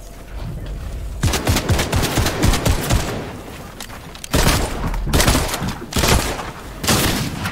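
Hop Rock Dualies dual pistols fire in Fortnite in loud, rapid bursts of sharp gunshots. The volleys are separated by brief pauses and land close and punchy, with no talk over them.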